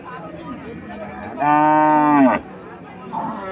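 A Haryana cow with a five-day-old Sahiwal bull calf gives one loud, close moo lasting about a second, rising and then dropping off, over quiet background murmur.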